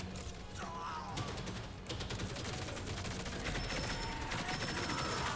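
A weapon firing in Halo in a sustained, rapid stream of shots, loud and continuous throughout, with occasional bright metallic pings layered over the steady fire.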